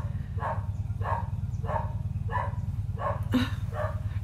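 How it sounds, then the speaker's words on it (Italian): A dog barks repeatedly at a steady, even pace, six sharp barks at a moderate distance over a continuous low hum, with no talk. "Ecco qui Tommy ha cominciato ad abbaiare."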